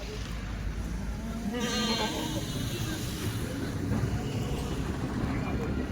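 Kathiawadi goats bleat over a busy, noisy background, their calls overlapping in the mix along with some indistinct voices.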